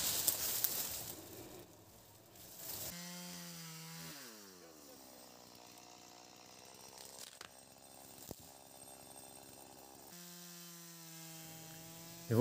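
A chainsaw fitted with a new chain cuts trees while clearing a plot. Its engine revs rise and fall in several long, wavering passes, fairly close, with brief pauses between cuts.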